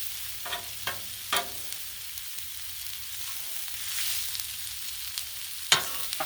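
Cabbage, kielbasa and potatoes being stirred on a Blackstone griddle: a faint sizzle underneath, punctuated by a few sharp metal spatula scrapes and taps at irregular moments, with no talking.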